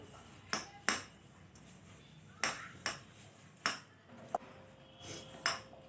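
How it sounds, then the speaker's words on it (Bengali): Ingredients, including a raw egg, are mixed in a bowl for onion paratha dough; a spoon gives a series of sharp, close metallic clinks at an uneven rhythm against a quiet background. "বন্ধুরা দেখুন, সব উপকরণ ভালোভাবে মিশিয়ে নিচ্ছি।"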